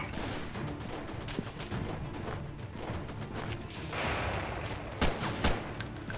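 Gunfire in the early-access combat game Freeman: Guerrilla Warfare, with rapid distant volleys of shots, a couple of sharper nearer bangs toward the end and constant battle noise underneath.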